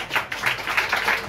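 Several people clap eagerly in quick, steady rhythm, about two claps per half second, close and moderately loud, with no talking.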